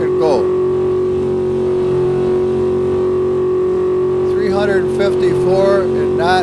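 A turbocharged modded car in a racing video game holds at full top speed, its engine a loud, unbroken high drone; a voice cuts in briefly near the start and again toward the end.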